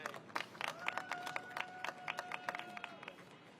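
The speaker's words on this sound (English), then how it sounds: "Let's give the ambassador another round of applause" Audience applauding the Albanian ambassador at a New York City flag raising ceremony for Albania, a steady round of scattered clapping with a whistled tone partway through, fairly distant and modest in level.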